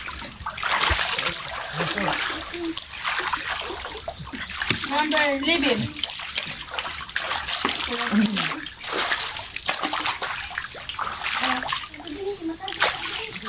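Water splashing and sloshing at a cold spring pool in the countryside, with repeated close splashes throughout while children and adults chatter over it.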